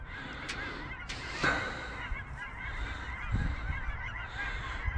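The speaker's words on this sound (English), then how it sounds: "Canadian geese." Canada geese honking as they fly overhead outdoors, a few faint distant calls rising over steady background noise and wind.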